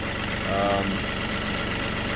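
A John Deere 2038R compact tractor engine runs steadily while digging, a close, continuous low diesel drone with a faint mechanical whine rising briefly partway through.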